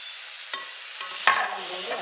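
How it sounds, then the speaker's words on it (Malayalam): A spoon scrapes and stirs in a frying pan holding taro stems with chili and curry leaves, giving a few distinct strokes over a faint, steady sizzle. "ഇനി മുളക്, കറിവേപ്പില മുളക് ഇട്ട് കൊടുത്തു ഒന്ന് ഇളക്കി കൊടുക്കാം."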